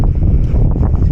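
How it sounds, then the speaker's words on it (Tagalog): Cold wind blows across the Portsmouth harbourside near moored yachts, a steady low roar buffeting the microphone at close range with no voices. "Naririnig niyo ba yung hangin,"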